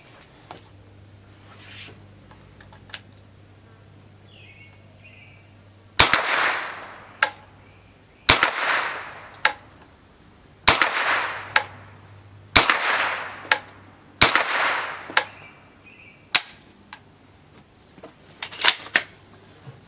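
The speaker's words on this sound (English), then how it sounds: "let's put some rounds down range here at 50 yards and see just what this little VR9 will" Velocity Arms VR9 9mm carbine, an MP5 clone, firing Remington ammunition at 50 yards outdoors: several loud, sharp single shots spaced a second or two apart, each with a short ringing decay, following a quiet stretch.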